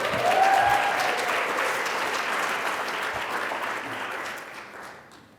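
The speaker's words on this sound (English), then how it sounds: "let's give them a round of applause" Applause from the audience at a student panel event, a dense wash of clapping that starts loud, holds steady and tapers off toward the end.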